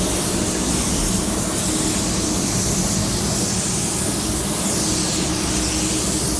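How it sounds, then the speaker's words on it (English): Spray gun laying down pearl white paint, a steady loud broadband hiss that continues unbroken from start to finish. "I just like to spray fast, you know?"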